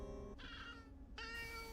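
Cat meowing in the horror film The Grudge, two drawn-out tonal meows with a short gap between them, faint and eerie, with no speech over them.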